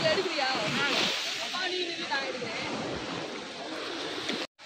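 Forceful waves surge onto an island beach between backwaters, a steady broad wash of surf and hiss that holds at close range throughout, with a voice talking faintly underneath.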